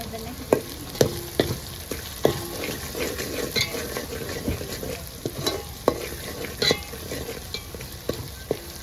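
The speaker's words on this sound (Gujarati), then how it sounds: "મરચો પાકી જાય ત્યાં સુધી હલાવવાનું છે" Chicken curry frying with turmeric and red chili is stirred in a pot, a spoon scraping and clinking in irregular strokes over a constant soft sizzle, close and moderately loud.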